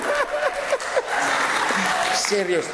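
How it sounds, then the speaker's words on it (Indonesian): Audience clapping in an Indonesian sermon setting, a sustained patter of hands mixed with voices and laughter-like calls over it. "Nah, itu dia, tepuk tangan."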